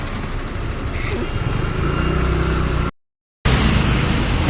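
Motorcycles and other vehicles rumble past steadily in a rain-soaked traffic jam on a muddy road under construction, a continuous close engine drone with a brief dropout near the end.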